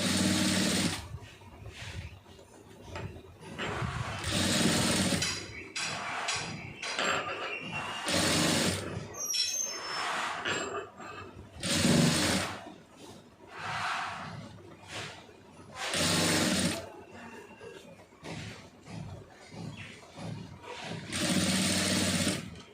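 A sewing machine stitches a lined blouse, running in repeated short bursts with pauses between, close and fairly loud, with no voices.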